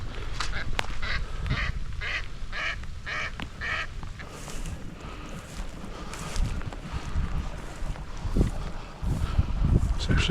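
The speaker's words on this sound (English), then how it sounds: "There's a duck right there. A couple of them." Ducks quacking near a forest campsite, a run of rapid nasal quacks early on, then quieter calls against a rumbling outdoor background.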